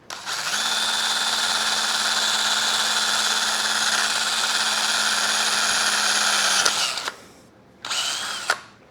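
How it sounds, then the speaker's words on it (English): Power drill with a small bit bores a pilot hole in an aluminum motorcycle rim of a Rawrr Mantis X Pro e-moto, a steady loud whine for about seven seconds, then a brief pause and a short second burst. "we can use a small drill bit to drill a pilot hole"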